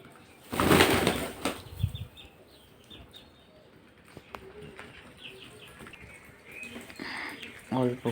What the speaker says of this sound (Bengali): অল্প কিছু কবুতর এখানে এসেছে, আর বাদ বাকি কবুতর উড়ে এখানে ওখানে খেতে গেছে।